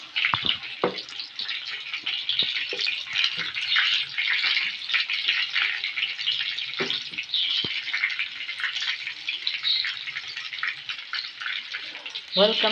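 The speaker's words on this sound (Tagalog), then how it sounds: "nagluluto tayo ng skinless longganisa" Skinless longganisa sizzles and crackles steadily in a frying pan, a bright constant hiss with occasional pops and a few spoon or pan knocks, close by.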